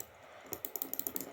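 Rapid computer keyboard and mouse clicks during a Blox Fruits Roblox gaming session, a quick irregular burst of about a dozen sharp, close taps following a moment of quiet, with no talking.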